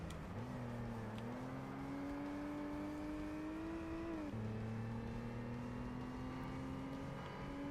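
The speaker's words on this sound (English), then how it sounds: "I'm listening to the sound of this car. It has like a bassy kind of sound to it as well." Racing video game car engine from Forza Motorsport, a D class car, holding a steady bassy drone with smooth gear-change pitch dips, continuous and fairly loud throughout with no talking.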